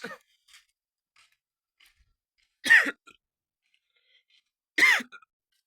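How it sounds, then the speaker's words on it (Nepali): A person hiccups: two sharp, short, voiced jolts a couple of seconds apart, close and fairly loud against near silence, with a few faint small sounds between them. "कस्तो हिच्किने आएको"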